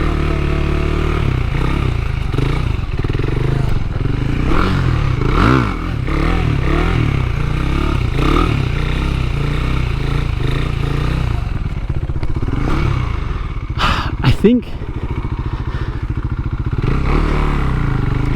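A KTM Duke 390 motorcycle holding a stand-up circle wheelie, its engine droning steadily and close with rising and falling revs, plus a few clattering knocks near the end.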